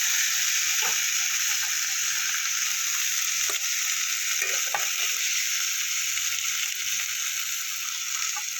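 Eggplant frying in an open pan gives a steady, even sizzle throughout, with a few faint clicks and stirring taps underneath and no talking.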